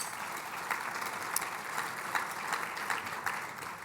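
An audience claps at a business technology event, a steady, moderately distant wash of applause that holds evenly throughout.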